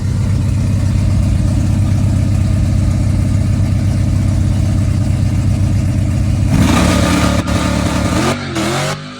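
A ZZ632 crate engine in an OBS-era truck drones hard under sustained throttle, a loud steady roar that breaks off near the end into a quick shift and falling revs.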